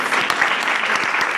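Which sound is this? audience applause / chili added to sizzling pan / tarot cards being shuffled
audience applause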